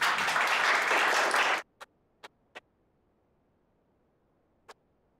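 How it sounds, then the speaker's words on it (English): Applause from an audience for the speakers Kay and Vivian at a forum on covering trans issues, a dense burst of clapping for about a second and a half that stops abruptly, followed by a few isolated faint clicks. "Give Kay and Vivian a round of applause."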